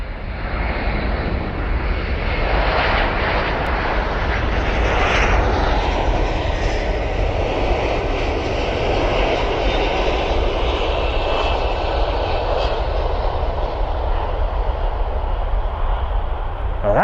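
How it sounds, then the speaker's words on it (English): A Boeing C-17 military transport aircraft lands at RAF Mildenhall, its engines giving a loud, sustained roar with rising and falling whine, close and continuous throughout with people talking faintly underneath. "That's our C-17 just touching down."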